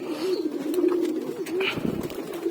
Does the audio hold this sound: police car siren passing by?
no